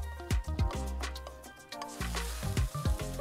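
A Sims 4 character cooks food in a pan in the video game, giving a steady sizzle and frying hiss with a few quick clinks and stirring ticks, close and moderately quiet, with no voices.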